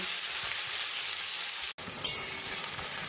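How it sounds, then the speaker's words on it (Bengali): Four or five thinly sliced onions fry in a pan with a steady, close, broadband sizzle, briefly cut by a short gap before the crackle resumes. "পেঁয়াজটাকে একটু ভালো করে ভেজে নেব"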